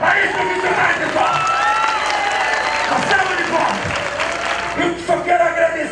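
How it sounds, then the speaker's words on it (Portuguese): Audience applause and cheering for health professionals at a local event in Erechim, Brazil, a crowd clapping loudly with whoops and shouts, while voices and some music carry over it. "Uma salva de palmas para esses profissionais, pessoal!"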